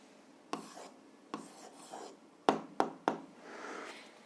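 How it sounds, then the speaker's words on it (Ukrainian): Someone writes an answer by hand for an algebra exercise, making quiet, close scratching strokes broken by several sharp taps, with no voices. "а зараз записуємо відповідь, пишемо відповідь."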